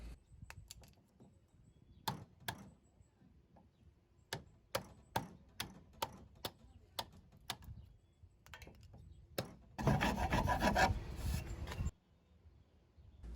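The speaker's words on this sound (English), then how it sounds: "After that, I clean it up with a chisel." Chisel paring a wooden tenon for a farmhouse trestle table, a series of sharp individual taps and scrapes spaced about a second apart, followed by a short louder burst of rough scraping, quiet between strokes.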